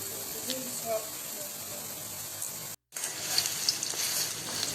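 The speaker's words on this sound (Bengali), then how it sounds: "এবার রেডি করা পাউরুটিগুলোকে বেসনের গোলায় ডুবিয়ে কড়াতে ভাজতে হবে" Bread slices coated in gram flour batter fry in hot oil in a wok, making a steady close sizzle that drops out briefly and then returns a little louder.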